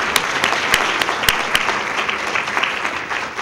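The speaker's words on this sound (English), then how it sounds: "can we give everyone another round of applause?" An audience applauds students honored as National Merit Scholarship semifinalists, a dense steady round of clapping with a few sharp individual claps standing out, loud and sustained throughout without speech.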